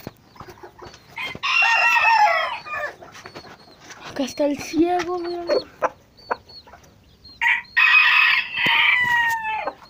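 A rooster crows loudly twice nearby, with hens clucking in between and someone speaking briefly.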